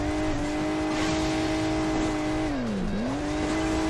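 A cartoonish car engine drones in the Hill Climb Racing 2 mobile game, a steady loud buzzing whine that dips in pitch and then climbs again, with no talk over it.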